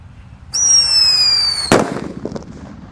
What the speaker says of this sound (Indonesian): Whistling Thunder ini guys. Sudah menyala.